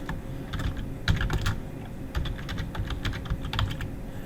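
Steady typing on a computer keyboard, with close, rapid key clicks in uneven bursts, entering a quiz question and running continuously with no voices.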